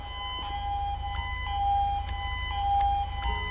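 An ambulance siren in the GTA V LSPDFR police game, a steady repeating electronic wail cycling over a low engine rumble, loud and close with no talking.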